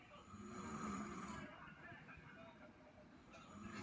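A man snoring loudly in his parents' bedroom at night, heavy rasping breaths rising and falling continuously over a television show playing in the background.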